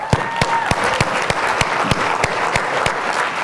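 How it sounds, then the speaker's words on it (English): A workshop audience applauding, a dense wash of clapping with a few sharp, distinct claps standing out at regular intervals, fairly loud and close, with no talking. "let's give that a big round of applause,"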